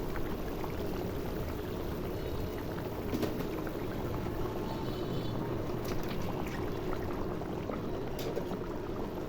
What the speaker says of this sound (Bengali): ঝোলে বলক চলে এসেছে, এখন মাছগুলো ছেড়ে দিব।